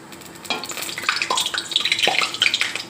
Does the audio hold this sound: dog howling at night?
no